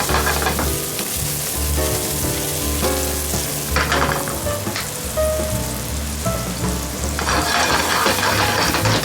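Sea bass sizzles in butter in a pan, a loud dense crackling fry like heavy rain that runs continuously, with bursts of spitting and a few faint utensil taps, close up and without speech.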